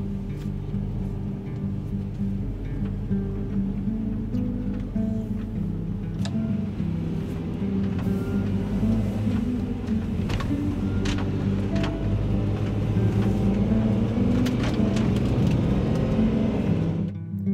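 A van drives into Yosemite National Park in light snow. A steady, loud engine and road rumble fills the interior and continues throughout, with faint rattles and knocks on top.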